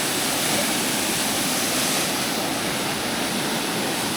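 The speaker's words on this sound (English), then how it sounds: "just arrived in Juja waterfall here." Juja waterfall on the Ha Giang Loop in northern Vietnam, a steady, dense roar of falling water that fills the whole stretch evenly without pause, loud and close, with no voices over it.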